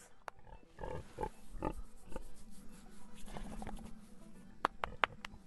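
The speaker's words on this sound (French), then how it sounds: "Et Aujourd'hui, une cinquantaine de cochons se promènent à leur guise dans les champs, été comme hiver." Pigs roaming free in open fields on a farm in Estrie, quiet snuffling and scattered short grunts with soft rustling and a few sharper squeals toward the end, heard at a moderate distance.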